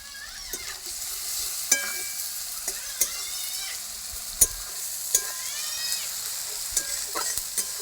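Turmeric and spices fry in oil in a pan for Bengali tilapia curry, a continuous close sizzle with regular sharp scrapes and taps of a stirring spatula, no voices.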